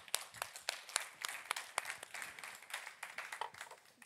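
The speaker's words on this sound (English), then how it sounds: "Round of applause." Brief applause for panel speakers at a fashion industry talk, a modest audience clapping in a quick uneven rhythm, fairly quiet and fading slightly toward the end.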